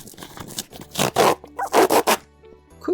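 A cardboard book box torn open by its pull strip, a quick series of loud, close ripping and scraping bursts in an uneven rhythm, heard alone.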